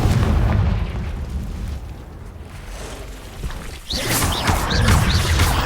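Deep booming explosive spell blasts in Hogwarts Legacy combat, a rumbling low roar that dips briefly then surges with a fresh burst, whooshing magic crackles overhead, no talking.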